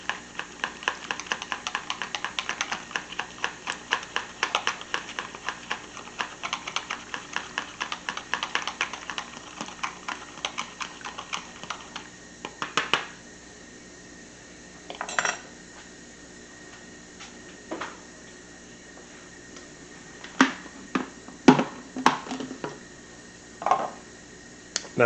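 Strawberry curd being mixed in a bowl, a quick run of light rhythmic clinks and taps from a utensil, then sparser, scattered knocks and scrapes.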